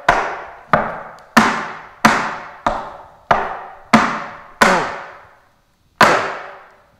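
Tap dance steps, a press cramp roll and cramp roll, ring out as eight sharp, crisp taps on a hard floor, near and loud, in an uneven rhythm with a longer pause before the final strike.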